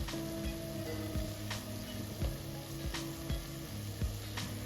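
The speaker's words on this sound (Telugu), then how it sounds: "అల్లం వెల్లుల్లి పేస్ట్ వేసుకొని పచ్చి వాసన పోయే వరకు వేపుకుందాం" Ginger garlic paste sizzles steadily in hot oil in a pan while a vegetable pulao is being cooked, a continuous close frying hiss broken by regular soft scraping stirs, with no talk.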